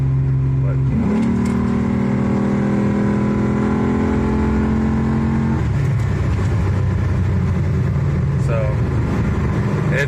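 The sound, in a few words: Chevy S10 truck with cammed Vortec V6 accelerating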